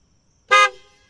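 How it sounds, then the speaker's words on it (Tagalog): A PIAA car horn fitted to a Honda Civic gives one short, loud blast lasting about a fifth of a second, rich in bright harmonics. A brief ringing tail follows it and nothing else is heard. "Okay, busina."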